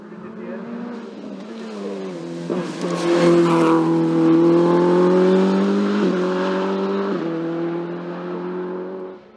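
A Simca CG Turbo rally car climbing a hill on a rally course, its engine building from a distant drone into a loud, sustained, strained roar with gear changes, then easing as it passes; a voice talks over it.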